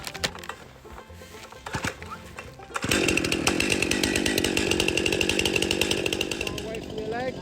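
A chainsaw at an outdoor course, starting with sputtering pulls and clatter, then roaring into a loud steady run that holds to the end.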